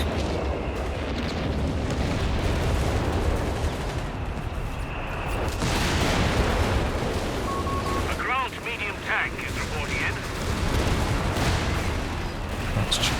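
Howitzer artillery fire in a Company of Heroes 3 2v2 battle, dense rumbling booms and blasts layered over continuous battlefield noise, loud throughout with a talking commentator underneath.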